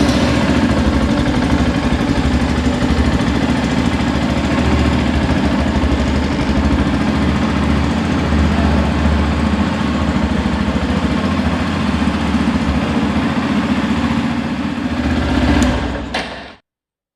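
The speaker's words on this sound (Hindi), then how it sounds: "आइए बाइक स्टार्ट करके देखते हैं।" A 2024 Yamaha FZX 150 motorcycle engine runs at a loud, steady idle close by, an unbroken mid-pitched drone that cuts off abruptly near the end.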